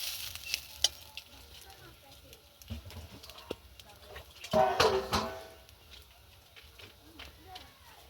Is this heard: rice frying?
yes